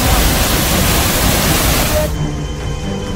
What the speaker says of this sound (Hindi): लगातार हो रही बारिश से झरने से बेतहाशा पानी गिरने लगा।